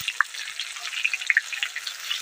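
Chopped tomato fritters frying in hot oil, a steady close sizzle with scattered sharp pops and crackles throughout, no voices.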